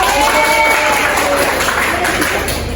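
A class of students claps together continuously for a few seconds, a dense, loud patter of hands in a classroom, with some voices mixed in.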